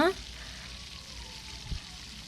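Small semiya biscuits fry in hot oil with a steady, soft hiss and sizzle throughout, plus a brief clink near the start and a light knock toward the end.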